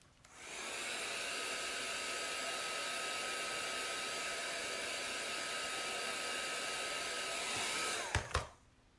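A hair dryer blows steadily and close up to dry chalk paint on a decoration, a constant airy whir that starts at once and clicks off near the end.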